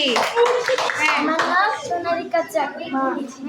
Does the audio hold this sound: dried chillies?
no